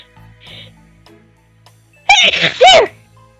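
A single loud human sneeze rings out close to the mic, a sharp two-part burst following a quiet pause with faint background hum.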